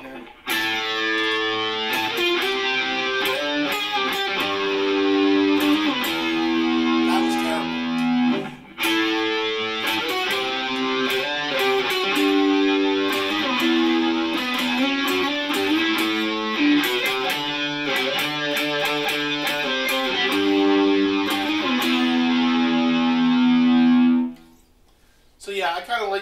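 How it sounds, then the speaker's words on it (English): Electric guitar played on the neck pickup through a Marshall MG100HFX head's lead channel with chorus, giving a sustained, driven, shimmering lead tone with a brief gap near nine seconds and a stop near the end. "I like that chorus in there, especially when I'm playing on the neck pickup"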